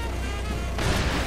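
A loud video game explosion erupts partway through, a harsh explosive blast over a constant noisy rumble, with no speech.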